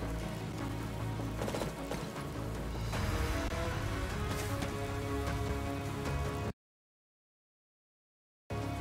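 Steady rain falling on surfaces in the video game Fire Emblem: Three Houses, a dense continuous patter with some brief louder bursts. It runs for several seconds, then cuts to silence near the end.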